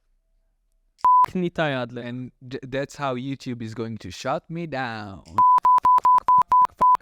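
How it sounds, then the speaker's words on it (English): Someone talks, cut off by a steady electronic censor bleep, then his speech ends in a rapid string of short repeated bleeps. "I'm going to put a lot of beep, beep"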